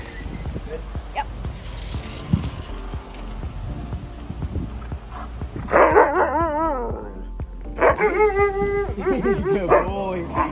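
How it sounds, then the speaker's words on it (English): Rescued husky sisters barking, yipping and whimpering in a rising, overlapping chorus, with long wavering howl-like cries building in the second half; a person speaks faintly underneath. "Huskies are just loud dogs. So even though they're making all this noise, it's completely normal."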